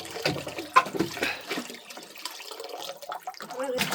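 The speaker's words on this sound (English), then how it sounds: "Fill up your bottle. That one worked. Keep pumping." Water from a hand pump splashes intermittently into a bottle, in uneven gushes, with people talking over it.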